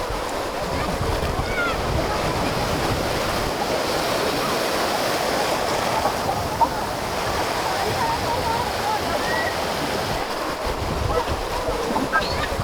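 Sea waves wash steadily onto a beach in the Al Abyad area west of Marsa Matrouh, Egypt, a continuous close rushing surf mixed with wind noise and no break.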